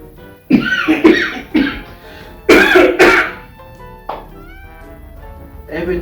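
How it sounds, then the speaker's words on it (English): Several harsh, throaty coughs and throat clearings come in short bursts with pauses between them, close to the listener, with no speech. "only one thing makes me cough, and that's a sip of water"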